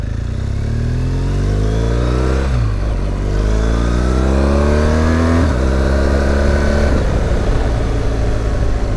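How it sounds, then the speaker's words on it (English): A 2017 BMW R1200GS Rallye motorcycle ridden on the road, its engine loud and steady as it climbs in pitch under acceleration, dropping sharply twice as the gears shift up, with constant wind rush. "I'm riding in the normal road mode of the dynamic electronic suspension adjustment, and it feels very good, very compliant."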